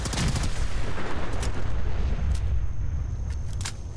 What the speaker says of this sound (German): das Auto explodiert